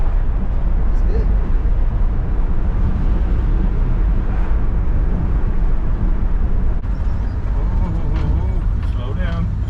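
A 1971 Chevy C10 pickup truck cruising at 45 mph, with steady low engine drone and road rumble filling the cabin while people talk over it throughout.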